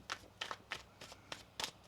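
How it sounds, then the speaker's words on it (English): Tarot cards shuffled by hand, giving six quick, soft riffling bursts in an uneven rhythm, close and quiet with no talk. "One more shuffle here."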